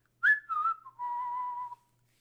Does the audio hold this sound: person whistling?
yes